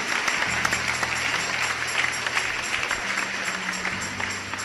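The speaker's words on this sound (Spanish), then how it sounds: "Un aplauso fuerte al Dios que vive" Congregation applause during a church sermon, a broad wash of clapping with a low sustained tone underneath, steady and fairly loud throughout.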